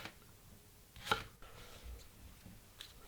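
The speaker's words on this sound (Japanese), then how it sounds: "玉ねぎは芯のところで半分に切ります。" A single knife stroke halves an onion through the core on a cutting board, a brief, quiet chop against a faint room background.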